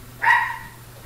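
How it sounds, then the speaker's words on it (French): A dog barks once indoors, close and fairly loud: a single sharp yelping bark, with no talking around it. "Désolé pour le chien, hein."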